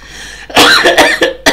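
A man coughs several times in quick succession, loud and close, a burst of harsh hacking followed by two more sharp coughs, with no talk.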